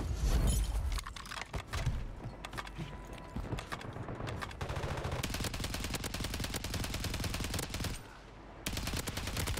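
Sniper fire in a Call of Duty Rebirth Island match, dense crackling gunfire bursts running steadily throughout, loud and close amid constant game noise, with a brief lull near the end.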